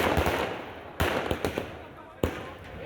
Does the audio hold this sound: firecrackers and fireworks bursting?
yes